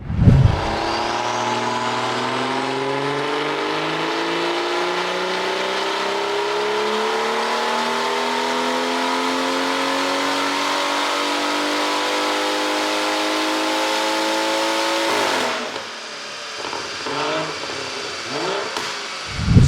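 Tuned BMW B58 engine with a big turbo on a dyno, loud and close, making one long sustained pull that climbs steadily in pitch for about fifteen seconds, then abruptly lifts off into lower, uneven idling.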